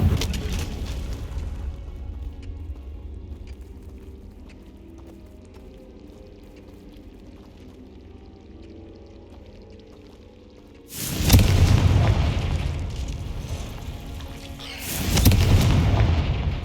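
Two loud, booming blasts from the Bombarda spell in the Hogwarts Legacy video game, each rumbling for about a second and a half after a long stretch of quiet low ambience.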